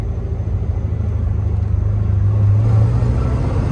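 A 1971 Corvette with a four-speed manual gearbox accelerating, its engine a loud, close, steady low rumble that builds slightly in strength over a few seconds, with no voices.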